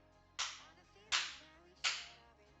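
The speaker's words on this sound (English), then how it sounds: "Gotta do the right clap here. There we go. Clap, clap, clap." Three sharp hand claps, evenly spaced and close, each ringing briefly in a quiet room.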